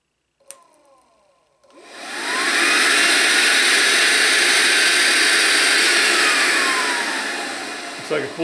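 After a click and a short pause, a BMW secondary air injection pump spins up into a loud, steady whooshing roar that holds for several seconds, then winds down at the end.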